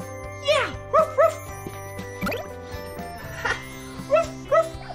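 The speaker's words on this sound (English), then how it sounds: "I spy with my eyes a dog." A dog barks in short, yappy bursts, several of them spaced across the stretch, sounding bright and cartoon-like over light jingling music at a beach setting.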